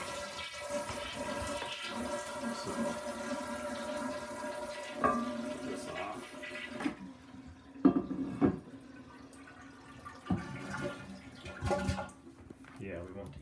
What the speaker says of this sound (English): So, it's flushing.